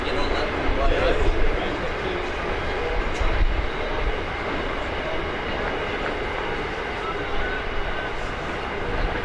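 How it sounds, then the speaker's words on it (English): A train rolls past near a country football ground, a steady broad rumble filling the whole stretch with slight swells, while crowd noise and voices carry underneath. "The train just goes past Easty."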